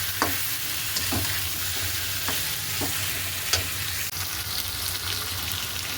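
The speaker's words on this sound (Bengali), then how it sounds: "মশলা কষিয়ে মাংসটা দিয়ে দিয়েছি দিয়ে এই যে কষাচ্ছি" Chicken pieces stir-fried with spices in a pan give a continuous, close sizzle, with a scraping knock from the spatula roughly every second over the steady frying hiss.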